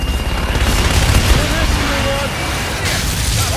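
Gunfire in the Call of Duty: Infinite Warfare video game comes as a dense burst of booming shots and explosions, heavy at first and then thinning, mixed with game voices speaking.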